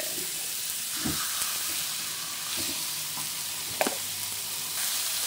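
Chicken pieces browning in a pan for tinolang manok, a steady close sizzle and crackle with a few scraping stirs and one sharp clink near the end.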